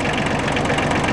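Kubota compact tractor engine idling steadily with a dense, knocking diesel rumble, loud and close, constant throughout with no talk.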